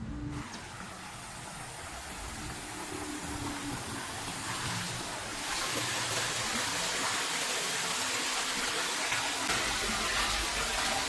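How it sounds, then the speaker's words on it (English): An outdoor waterfall rushes in a broad, steady hiss of falling water, continuous and fairly loud, swelling slightly partway through. "I came where the waterfall at because it's fresher here, but I just noticed it's making quite a bit of noise"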